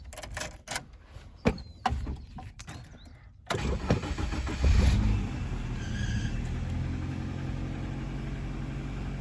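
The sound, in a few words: car engine starting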